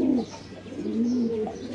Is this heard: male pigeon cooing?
yes